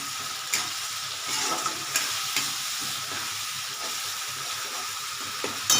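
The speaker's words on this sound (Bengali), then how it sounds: "এটা হচ্ছে আসল মশলা মশলা নাড়তে থাকি" Spices sizzle in hot oil in a pan while being stirred for a spicy aar fish curry, a steady close frying hiss broken by a few soft scrapes and clinks, with no talking.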